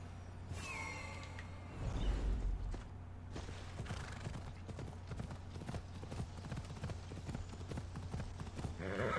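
Rhythmic hoofbeats of a galloping horse in Assassin's Creed Odyssey clatter steadily throughout, with a brief louder burst early on and a faint whinny-like tone.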